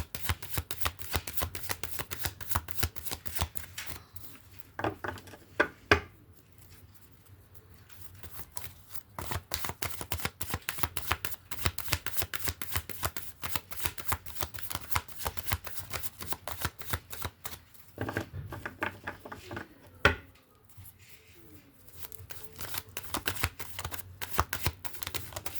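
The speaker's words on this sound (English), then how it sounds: "Shuffle." Tarot cards are shuffled in a rapid, continuous stream of crisp papery riffles and slaps, close and fairly quiet, with a few short pauses and one sharper knock.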